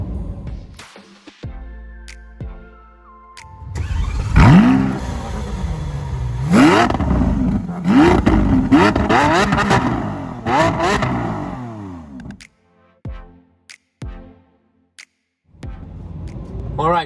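A Lamborghini Aventador S in Corsa mode, paddle-shifted while driving, revs hard through a long rising engine surge, then drops back to a quieter idle with brief pauses.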